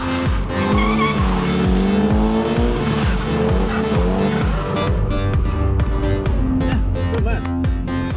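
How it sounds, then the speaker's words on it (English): A car drifting through donuts and handbrake turns at a drift school, its engine roaring continuously with long, loud tire squeals and skidding, close and sustained throughout. "Lessons start with drift donuts and handbrake turns."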